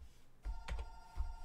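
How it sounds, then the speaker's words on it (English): A telephone rings quietly in a room, a thin steady bell tone with soft bumps and knocks around it, heard from some distance with no talk. "Oh, phone. I'll just go hang up."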